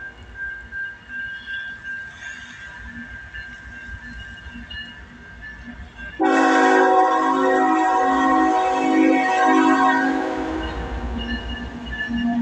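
Eastbound train approaching with rumbling wheels, then a loud sustained horn blast lasting several seconds over the rolling rail noise, close by.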